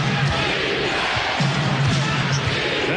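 A basketball arena crowd at an NBA Nets versus Bucks game keeps up a loud, steady roar and rhythmic chant for defense, with a low repeated tone riding underneath and no clear speech.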